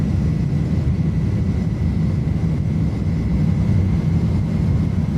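Engines of an iniBuilds A310 at takeoff power in Microsoft Flight Simulator make a loud, steady, broadband roar with a deep rumble and a faint whine above it, continuous throughout.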